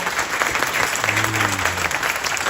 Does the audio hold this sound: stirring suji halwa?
no